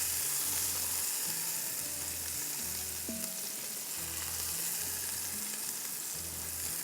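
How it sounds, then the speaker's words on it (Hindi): Onions fry in a pan toward golden brown, giving a constant close sizzle with a soft bubbling texture and a low rhythmic hum running underneath, no voices. "और प्याज को मुझे बहुत खूबसूरत सा गोल्डन करना है।"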